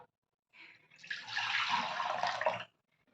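Soaked tamarind water poured for a panakam drink, a single close stream of liquid splashing into a vessel for about two seconds before stopping, quiet surroundings and no talk.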